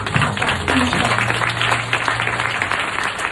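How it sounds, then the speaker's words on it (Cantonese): Warm applause from an audience at a sales meeting, a dense continuous patter of clapping throughout, with voices and a low hum mixed in. "可唔可以俾一個熱烈掌聲？"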